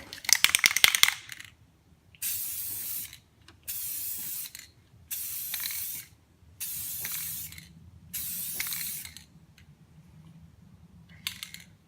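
Aerosol spray coating a hazy car headlight during a repair, heard as five separate hissing bursts of about a second each with short pauses between, close and fairly loud, plus some clicking handling noise at the start and a brief final burst.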